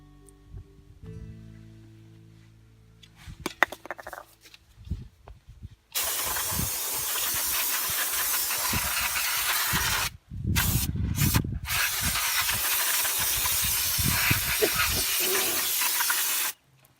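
An aerosol can of brake fluid cleaner sprays onto Buick brake parts: after some quiet handling clinks, a loud, steady hissing blast runs for several seconds, cuts out briefly twice, then continues until it stops.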